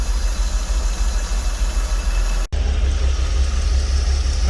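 A 2003 Porsche Boxster engine idles after sitting unused for over four years, giving a steady, loud, close rumble with a brief dropout midway.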